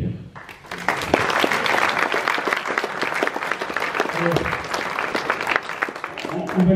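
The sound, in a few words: applause for the administrators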